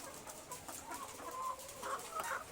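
Hens on an egg farm in hot weather cluck and murmur in a steady, moderately distant chorus, with a few louder calls rising near the end.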